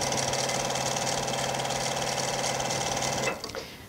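A sewing machine stitches encased welt cording, running in one steady, close, continuous whirring hum for about three seconds before it stops.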